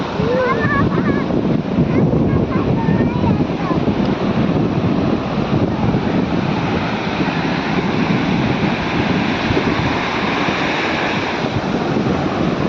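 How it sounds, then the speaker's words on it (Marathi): Steady roar of ocean waves washing onto a beach in the evening, with wind buffeting the microphone and a voice talking faintly in the background. "त्या लाटा एकदम सळसळ तिथं"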